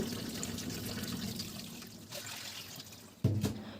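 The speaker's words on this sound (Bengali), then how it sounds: "মাছগুলো খুব ভালোভাবে ধুয়ে নিচ্ছি" Water splashes and trickles as cut fish are rinsed by hand, soft and close, ending with a sudden louder slosh.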